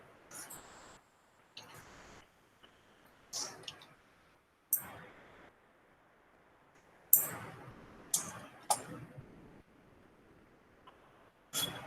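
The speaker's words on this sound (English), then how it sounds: "I'm going to press enter in the keyboard" A computer keyboard clicks in a quiet room: sharp, isolated key presses scattered over several seconds, fairly close and moderately loud, with soft background between them.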